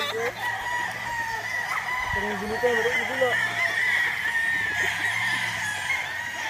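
Roosters and hens at a game farm crow and cluck together, with a continuous chorus of overlapping calls and a prominent crow rising in the middle, busy and fairly loud with no clear break.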